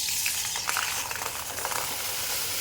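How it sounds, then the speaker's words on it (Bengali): Watery rice flour batter for papad hits a hot wok and sizzles, a continuous close crackling hiss with no talking. "দেখুন কড়াইটা গরম হয়ে গেছে দিয়ে দেবো ব্যাটারটা"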